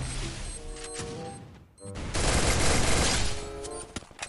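Rapid gunfire bursts in the video game Garena Free Fire, with a brief lull before a dense, sustained volley of shots that trails off into scattered single reports.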